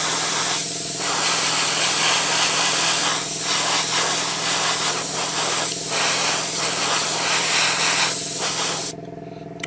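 An airbrush sprays Vallejo Model Air acrylic paint in RLM 74 over a Tamiya 1/12 scale figure, giving a continuous close airy hiss with a few brief pauses, then stopping shortly before the end.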